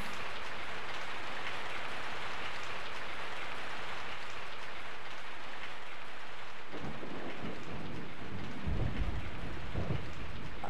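Steady heavy rain pours in Resident Evil 3: Nemesis (1999), a dense even hiss filling the scene with a low rumble of thunder rolling in near the end; no voices.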